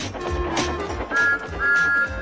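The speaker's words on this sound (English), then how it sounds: "Whistling triumphantly, he plunged into the tunnel" A steam locomotive whistle sounds in two sustained blasts, the second longer, over a rumbling, chugging engine noise with rhythmic puffs underneath.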